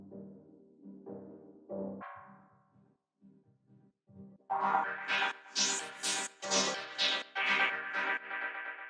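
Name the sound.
drum loop run through Ableton resonator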